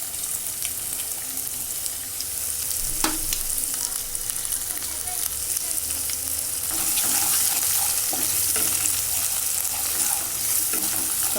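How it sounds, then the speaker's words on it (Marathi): Chopped onion and garlic frying in a pan, a steady broad sizzle that holds throughout, with occasional stirring scrapes and clicks and a slight rise in intensity in the second half. "कांदा चांगला ब्राऊन होईपर्यंत परतायचा आहे"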